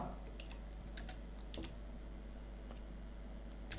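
Keys tapped on a computer keyboard while entering medicine names into an Excel invoice, scattered soft clicks over a steady low background hum, no voices.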